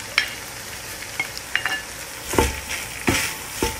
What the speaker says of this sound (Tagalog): Haluin natin hanggang 2 minutes lang.